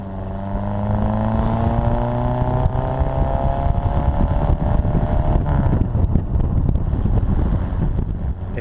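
A stock right-hand drive Austin-Healey Bugeye Sprite with a 948 engine and original smooth case transmission drives along, its engine droning steadily with rising pitch as it accelerates, mixed with heavy wind rush throughout.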